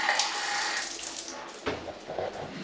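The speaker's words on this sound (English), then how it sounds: "Does that even run? Oh, there you go. We're in a shower." A hotel shower runs with a steady, close hiss of spraying water, shifting briefly as the flow changes partway through.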